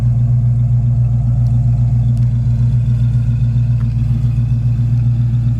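A 1966 Ford Mustang coupe with dual exhaust idles close by with a deep, throaty, steady rumble and a faint rhythmic pulse, loud and alone.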